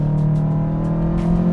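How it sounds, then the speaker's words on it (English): A 2006 Subaru WRX STI 600 horsepower track build on air suspension, its engine droning with a low, steady, uneven rumble and a chattering clutch, loud and close for a brief moment. "oh my God, the chatteriest clutch ever"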